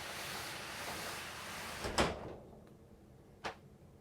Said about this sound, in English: Let's make sure the door closes properly.